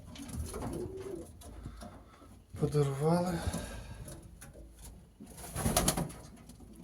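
Racing pigeons coo softly in low, rolling calls nearby, heard between and under a man's speech in Ukrainian.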